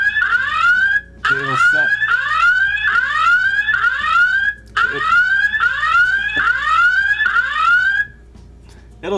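BOSMA EX Pro outdoor security camera sounding its anti-theft tamper alarm: loud, shrill rising chirps repeating in rapid bursts, with a short voice breaking in briefly.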